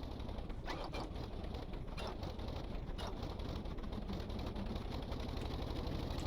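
In the video game Stormworks, an engine is started with the throttle held fully open, giving a continuous rough, sputtering mechanical drone that chokes and stutters with irregular knocks, steady and fairly loud throughout with no talking.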